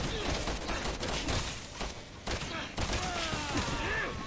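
Rapid gunfire from Resident Evil 6 crackles through a busy game soundscape, a string of sharp bursts repeating over several seconds with music and voices in the mix.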